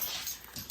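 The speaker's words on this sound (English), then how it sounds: "I'm sorry, my dog." A dog whimpers indoors, a few short soft whines and yips close by against a hissy background.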